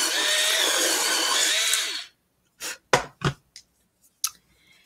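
A colored pencil in a terracotta shade is sharpened in a few short scraping bursts after a stretch of steady broadband noise, loud and close, with no talking.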